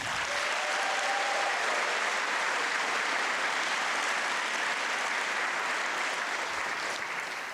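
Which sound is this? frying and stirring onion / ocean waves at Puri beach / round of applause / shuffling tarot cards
round of applause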